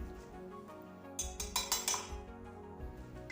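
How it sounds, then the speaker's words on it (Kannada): A quick run of light clinks and rattles as small hard grains drop into a jar, after a quiet start. "ಎರಡು ಚಮಚ ಸಾಸಿವೆಯನ್ನು ಹಾಕಿಕೊಳ್ತಾ ಇದ್ದೇನೆ"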